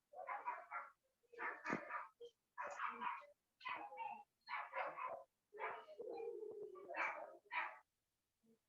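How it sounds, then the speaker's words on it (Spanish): Several dogs fighting outdoors, a rapid run of snarling barks, yelps and whimpers in bursts, one small dog among them, heard from a short distance with no voices. "Hay pelea de perros aquí afuera."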